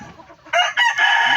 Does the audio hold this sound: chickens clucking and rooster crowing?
yes